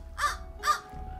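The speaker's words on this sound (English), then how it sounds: "It's making bird noises." Two sharp crow caws spaced about half a second apart ring out alone in the A Plague Tale video game, close and clear over a quiet low background.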